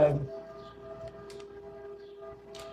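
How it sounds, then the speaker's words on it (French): A steady, sustained siren tone drones in the distance, faint and unbroken, with a few soft clicks and rustles nearby. "c'est la sirène de je sais pas quoi qui se fait aller"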